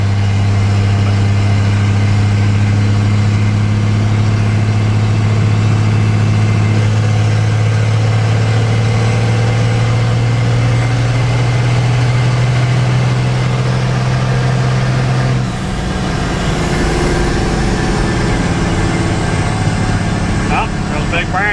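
A Dodge first gen Cummins diesel truck with no exhaust system idles loudly up close, a steady deep droning hum that shifts pitch partway through, with people talking over it.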